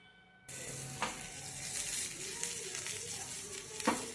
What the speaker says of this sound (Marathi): मोहरी, जिरे, कढीपत्ता आणि मिरचीची हलकी फोडणी देऊन घ्या.